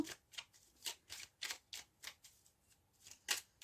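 Cards are shuffled and drawn during a sentimental card-reading session: a quiet, fairly rhythmic run of short papery riffles and slaps, with no one speaking.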